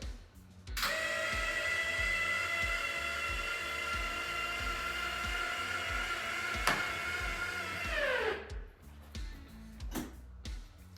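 A high-pitched electric power window motor whines steadily for several seconds as it closes on a Can-Am Maverick Sport, winding down with a falling pitch before a couple of faint clicks.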